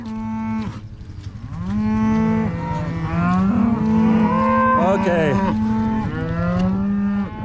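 Several cattle moo repeatedly, long, low, overlapping calls from nearby animals, with one brief spoken word among them.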